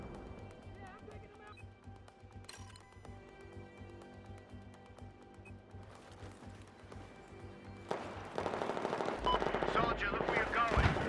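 Machine gun fire in Battlefield 4 crackles in the distance under background battle noise, then grows into louder, denser bursts toward the end.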